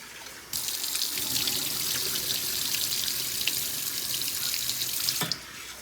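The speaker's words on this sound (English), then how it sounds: "I just put cold water, tap water, in my pot. I move my rice around." Cold tap water runs steadily into a pot while rice is washed, a continuous close splashing rush that begins and stops abruptly, with no voices.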